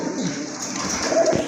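Fancy pigeons at a pigeon sale coo close by, low soft cooing calls repeating over a busy background, with faint voices nearby.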